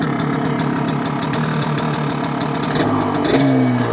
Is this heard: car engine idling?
yes